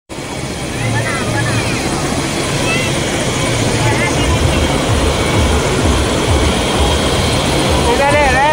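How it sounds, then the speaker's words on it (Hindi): A helicopter arrives over a large outdoor crowd near Deori block, its engine and rotor roar filling the scene loudly and steadily, with crowd noise and voices mixed underneath. "तो गाइज हेलीकॉप्टर आ चुका है"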